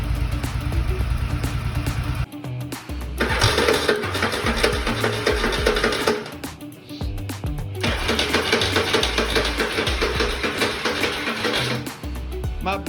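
A Yamaha Virago motorcycle engine runs just after its first start, a loud, rough, uneven idle that surges, dips and catches again in bursts, heard close by.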